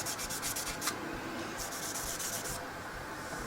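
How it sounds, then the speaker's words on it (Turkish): A surface is rubbed by hand with 120-grit sandpaper in quick scratchy strokes, with a steady rasping texture and no talk, while it is prepared for spray paint. "Ben başlangıçta 120'lik zımparayla başladım"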